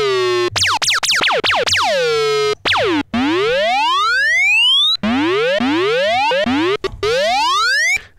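Arturia MicroBrute analog synthesizer with its envelope routed to pitch, producing loud repeated swooping tones that bend sharply down, then longer rising sweeps, one after another with brief gaps.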